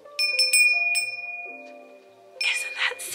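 A crystal bell with a brass stem is rung several times, giving bright, clear, delicate chimes with shimmering overtones, a short pause, then a final flurry of ringing up close.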